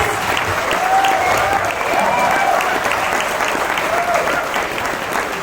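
Sustained applause from a large audience at an LGBT talk event in Jaipur, steady and dense throughout, with a few faint voices and whoops rising above the clapping.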